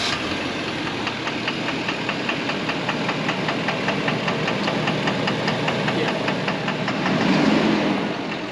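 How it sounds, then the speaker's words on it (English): A truck engine idles with a rapid, regular knocking like a faulty injector ticking under a steady low rumble, close and loud throughout, with a brief swell in revs near the end. "I'm hoping it's just some sort of injector noise."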